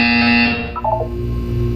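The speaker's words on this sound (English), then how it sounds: "You will hear a buzzer." A buzzer in the Portal 2 video game sounds loudly and alone. It gives a sustained harsh electronic tone that cuts off after about half a second, then drops to a lower, fading hum.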